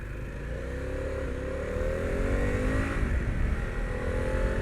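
A 2021 Harley-Davidson Pan America 1250 Standard pulls away, its engine note rising steadily as it accelerates, loud and close with a throaty rumble and no talk.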